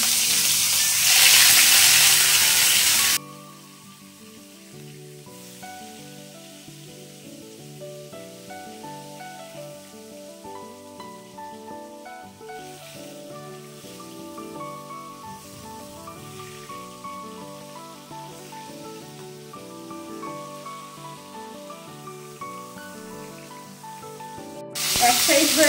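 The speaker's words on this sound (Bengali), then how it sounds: "এবার আমি ইলিশ মাছের মাথাগুলো দিয়ে দিচ্ছি" Hilsa fish heads drop into hot mustard oil with a loud initial burst of hissing, then settle into a steady, continuous sizzle of frying that swells again at the end.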